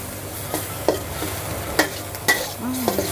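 Minced pork stir-fried with holy basil in a pan, a soft steady sizzle punctuated by several quick scraping stirs and light taps of the spatula, close and fairly quiet.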